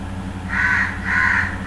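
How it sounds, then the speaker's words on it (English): Crows cawing outdoors give two long, hoarse caws in a row, fairly loud over a steady low background hum, with no talking. "never mind the crows"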